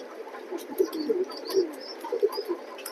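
Racing pigeons kept for sale coo softly in a loft, with several low, throaty, overlapping coos and faint rustling under a quiet background, close by and no talking.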